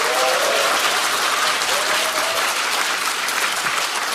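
Warm, sustained applause from an audience at a Democratic Party new-member academy event in Korea, dense and steady throughout with no voices over it.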